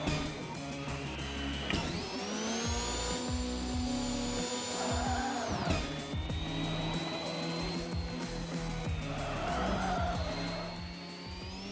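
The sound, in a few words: car driving and skidding in the video game Screwdrivers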